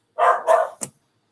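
A dog barks at night, giving two loud, drawn-out barks in quick succession followed by a short sharp yip, all fairly close with nothing else around.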